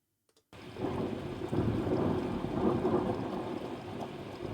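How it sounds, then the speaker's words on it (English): Thunder rolls in after a moment of near silence and rumbles on with steady rain, a broad, sustained roar that swells and fades slightly. "It's some thunder."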